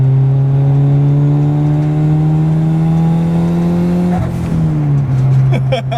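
A turbocharged Honda Integra revs hard and loud up toward 8,000 RPM, its engine note climbing steadily with rich harmonics, then drops sharply and settles back into a lower drone, with a brief burst of turbo and exhaust noise at the shift.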